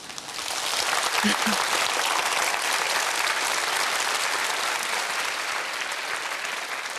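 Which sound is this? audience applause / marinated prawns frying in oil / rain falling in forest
audience applause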